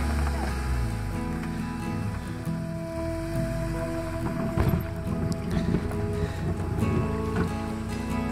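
A motorboat is launched onto a river during an expedition on the Lena: a low motor hum and water movement, with gusts of wind and occasional knocks, all fairly quiet and steady.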